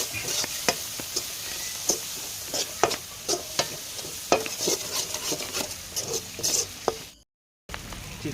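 Chicken with crushed chilli is stirred in a pan: repeated rhythmic spatula scrapes and taps over a steady sizzle, close and fairly loud, with a brief silent gap near the end.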